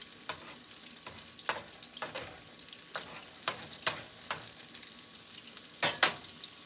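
A shrimp egg foo young patty fries in a pan with a steady, soft sizzle, broken by repeated sharp spatula scrapes and taps as the egg is gathered into shape. There is no talk.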